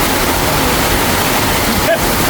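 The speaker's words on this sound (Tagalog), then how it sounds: "Magandang ulan." Heavy rain falls near a river on flooded farmland, a dense steady hiss of water that runs unbroken throughout, with a faint short tonal sound near the end.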